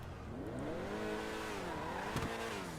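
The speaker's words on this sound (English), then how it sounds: "Get the revs high a bit. Launch it." A car launches from a standstill at high revs, its engine note rising steadily and loud with a brief tire chirp near the end, no talk.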